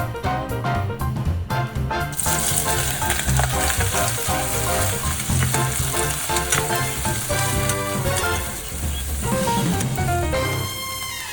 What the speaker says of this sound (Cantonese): 放入蝦殼炒香佢